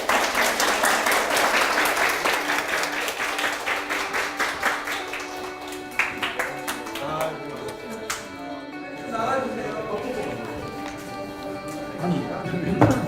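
An audience at the final of a mock administrative appeal competition claps together, a dense round of applause that thins out after a few seconds. Scattered voices and murmured talk then take over.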